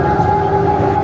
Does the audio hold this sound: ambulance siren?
yes